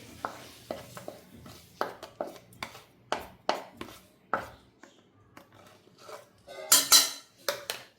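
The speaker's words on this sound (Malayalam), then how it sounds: "ഇത് നന്നായി അടിച്ചെടുക്കാം. ടീസ്പൂൺ കയ്യിൽ വെച്ചിട്ട് തന്നെ അടിച്ചെടുത്താൽ മതി." A teaspoon held by hand beats an egg mixture seasoned with garam masala and salt in a bowl. It makes crisp, close clinks and scrapes in an uneven rhythm, with a busier flurry near the end.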